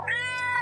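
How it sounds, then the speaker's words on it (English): A kitten meows once in a single drawn-out, bright call, close and clear with nothing else heard. "A naughty kitten."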